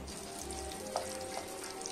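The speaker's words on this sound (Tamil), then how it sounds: "டொமேட்டோவை நல்லா ஃப்ரை பண்ணி தனியாக எடுத்து வச்சுக்கணும்." Tomatoes frying in a pan, a steady, dense sizzle with a couple of faint utensil clicks, fairly quiet and continuous without talk.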